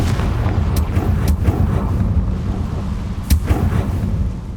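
A Confringo fire spell in Hogwarts Legacy erupts in a loud, rumbling blast that sustains as a dense roar, with several sharp cracks and pops scattered through it.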